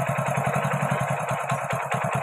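A BS6 Hero Splendor motorcycle engine idling at about 1270 rpm, a close, steady and fairly loud chug with even, rapid firing pulses and a faint mechanical clatter.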